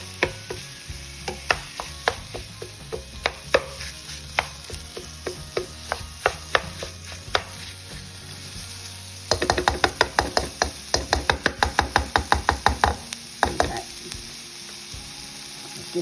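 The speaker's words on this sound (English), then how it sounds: "You hear that sizzle going?" Ground hamburger meat sizzles steadily while frying in a pan, with a series of sharp scraping and tapping strikes from a utensil breaking up the meat, growing denser and louder toward the end.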